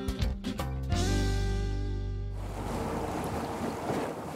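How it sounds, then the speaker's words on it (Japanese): Rough winter sea off Odawara, Kanagawa, with wind rising and waves building around a small fishing boat: a loud, continuous wash of surf and wind noise, with a deep engine-like hum and thumps early on before a broad roar takes over. "そうこうしている間に海が荒れてきました。"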